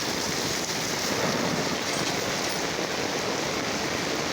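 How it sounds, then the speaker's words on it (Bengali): Heavy morning rain pours over a flooding neighbourhood in Mirpur, Dhaka, a dense, unbroken hiss of water at steady loudness, with no voices or distinct drops standing out. "আমাদের নিচগুলোকে এলাকা প্রচণ্ড রকম বৃষ্টি হইতেছে"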